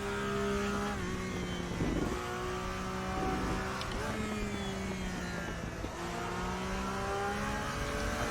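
A GT3 race car engine in a sim racing game at the Nordschleife drones loud and close with steady high revs, dipping briefly at gear changes, while faint engine noise from other cars sits underneath.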